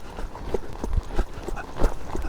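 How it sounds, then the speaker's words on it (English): Hooves of a young horse clip-clop steadily at a trot, with a regular rhythm of soft thuds close by and some faint background noise. "I like to trot these young horses more than lope."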